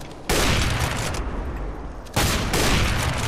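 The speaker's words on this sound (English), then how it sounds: "Get out of here with your fucking shotgun!" Two loud, booming shotgun blasts, each trailing into a rumbling decay, ring out in a Counter-Strike: Global Offensive match, with no talk over them.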